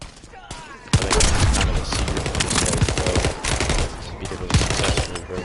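A turret in The First Descendant fires rapid, sustained bursts of gunfire, loud and dense with sharp repeated shots over several seconds, with faint talk underneath.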